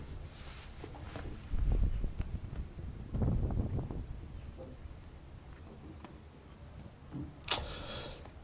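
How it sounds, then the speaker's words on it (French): Strong wind gusts across an outdoor tennis court, buffeting the microphone in low rumbling bursts that rise and fade, with faint footsteps and a sharp knock near the end. "Franchement, avec le vent, c'était un peu insupportable."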